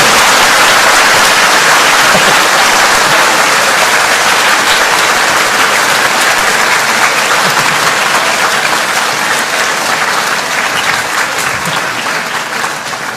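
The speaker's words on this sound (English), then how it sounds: "clap if you want to clap. Give it a good one." A large audience applauds loudly and continuously at the end of a Buddhist talk by Ajahn Brahm, a dense wash of clapping that holds steady throughout.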